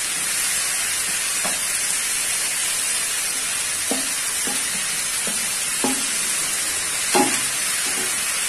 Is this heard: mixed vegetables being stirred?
yes